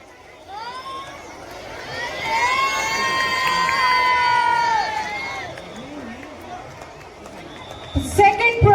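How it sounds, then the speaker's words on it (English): A crowd at a Children's Day event cheers and shouts loudly, with high excited voices and whoops rising and falling, building to a peak before easing off. "Come on everybody, huge round of applause."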